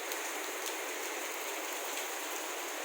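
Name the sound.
rain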